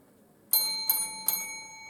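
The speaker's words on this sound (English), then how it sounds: "A warning bell will ring once at 4 minutes, and a continuous bell will ring 30 seconds after the final bell." A debate timing bell sounds three times at a steady, fairly quick pace, each bright metallic ding ringing on and overlapping the next in a quiet room.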